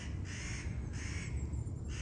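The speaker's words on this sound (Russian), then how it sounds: "Даже ворона со мной согласна. Или кто это каркает?" A crow caws in a forest during mushroom gathering, three harsh, evenly spaced calls at moderate distance over a low rumbling background.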